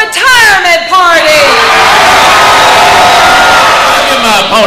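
A large crowd at the Fancy Farm political picnic in West Kentucky roars with cheers, whoops and shouts, loud and sustained, rising and then easing as a speaker's amplified voice returns.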